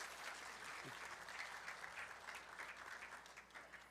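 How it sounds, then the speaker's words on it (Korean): Audience applause greeting a museum curator as she is introduced for a film-festival talk; steady, dense clapping from a seated crowd held at an even level throughout, with no voices over it. "큰 박수를 부탁드립니다"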